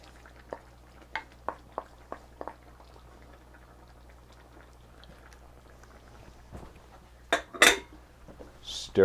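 A spoon scrapes and clinks against a pot as tomatoes are stirred into chicken and rice, with sparse taps early on and a louder burst of scraping near the end, no talking.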